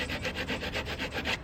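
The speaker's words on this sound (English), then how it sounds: "Take the sandpaper Sand it down smooth." Wood being hand-sanded smooth with sandpaper on a curved car grill part, about eight quick even back-and-forth rubbing strokes, close and fairly quiet, with no talking.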